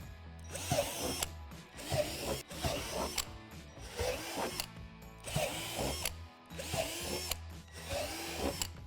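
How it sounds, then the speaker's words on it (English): A power drill whirs in repeated short bursts while drilling holes in a plastic barrier, each run starting and stopping about once a second, close and fairly loud with no talking. "Drill out the 4 holes in both of the plastic barriers."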